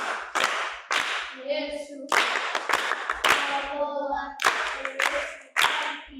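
Audience applause at a Swahili church teaching session on boarding-school parenting, with broadband clapping bursts throughout, interrupted by brief voices and speech between the claps.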